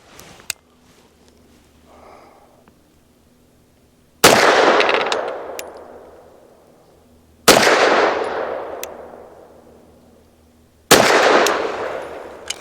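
Three loud, sharp pistol shots from a Bersa M2XI firing MagTech 95 grain jacketed soft point rounds, each spaced about three seconds apart and leaving a long ringing decay, with quiet handling noise before the first.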